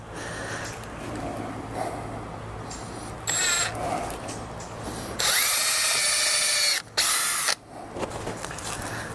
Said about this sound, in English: Where's my drill? All right, so I'm using 1¼-inch screws for this.